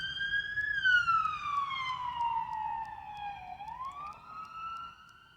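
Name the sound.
sirens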